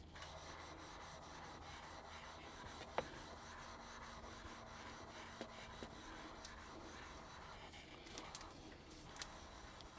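Flat lapping plates rubbed against each other with abrasive grit between them, giving a steady, close gritty rasping that continues without a break, with a few faint clicks and no talking.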